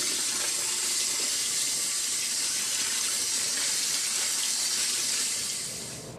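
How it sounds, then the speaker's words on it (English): Tap water runs steadily while rice is rinsed for white rice (arroz blanco). The hiss is constant and fairly close, then tapers off at the very end, with no talking. "When the water runs clear, the rice has been rinsed."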